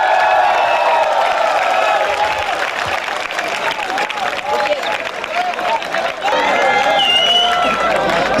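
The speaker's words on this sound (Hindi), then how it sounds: "परिवार वालों का स्वागत एक बार जोरदार तालियों के साथ।" Loud, sustained applause from a crowd welcoming families at a promotion function, dense clapping with cheering and a few voices mixed in throughout.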